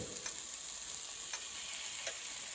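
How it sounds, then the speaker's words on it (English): Peppers sizzle steadily in a hot, smoking frying pan, a dense, close hiss with faint periodic crackles and no talking over it. "Again, sizzle."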